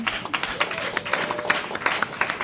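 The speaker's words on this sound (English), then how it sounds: "so big round of applause for them." Audience applause at a Roe v. Wade anniversary celebration, a crowd clapping with a grainy, uneven texture at moderate volume, with a faint tone running briefly underneath.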